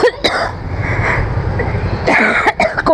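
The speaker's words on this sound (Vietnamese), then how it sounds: "Trời ơi, ho." A person who has been ill for a long time coughs and clears their throat in a cluster of harsh, close bursts at the start and again near the end, with a rough breathy stretch in between.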